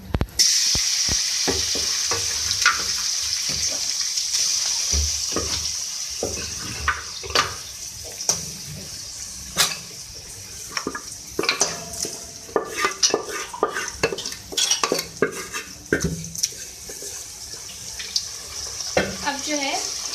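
Beef sizzles in hot oil for Afghani karahi while a spoon stirs and scrapes the pan, bursts of clatter and crackle over a steady frying hiss, close and fairly loud with no talk.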